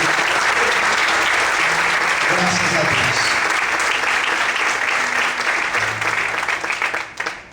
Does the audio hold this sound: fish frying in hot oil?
no